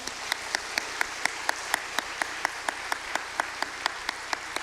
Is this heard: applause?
yes